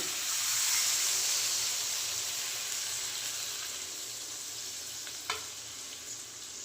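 Coconut milk poured into a simmering soybean and taro curry sets off a loud steamy sizzle that starts strong and gradually settles into a softer hiss, with a brief clink near the end.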